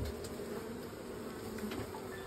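A dense swarm of honey bees hums steadily and close during the re-homing of a hive, a continuous buzzing drone with no voices.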